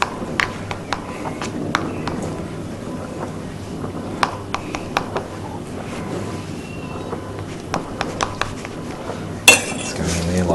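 A utensil scooping cooked rice onto a plate, with a scattering of light clinks and taps of the tool against the dish over a low room background.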